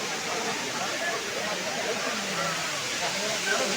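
Water falling at Old Courtallam waterfall in Tenkasi district, with a reduced flow, makes a steady broadband rushing roar, close and continuous throughout with no break.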